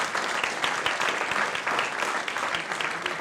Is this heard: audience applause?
yes